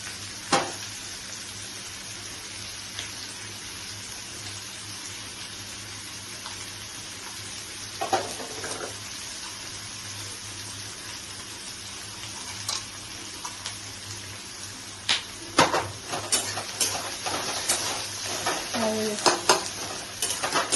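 Onions frying in oil for mutton kosha, a faint steady sizzle with occasional scraping stirs and clinks of the spatula against the pan, growing busier toward the end.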